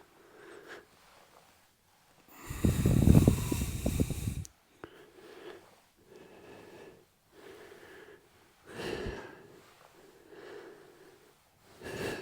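Deep breaths during an exercise session come in a rhythmic series of close, audible inhales and exhales, one long heavy burst followed by several shorter breaths.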